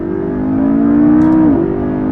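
A McLaren sports car engine revs hard as the car accelerates, one loud rising note with a brief dip, likely a gear change, then climbing again, close and without talk.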